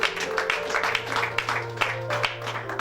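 A worship congregation applauds the Lord during an adoration service, with scattered hand claps over continuous music and a faint murmur of voices.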